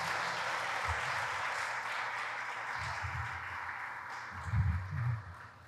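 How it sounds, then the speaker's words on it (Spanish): Church congregation applauding during a Sunday worship service, a steady broadband patter of clapping throughout with a swell of louder claps near the end, no talking over it. "Si va a aplaudir, apláudele al Señor."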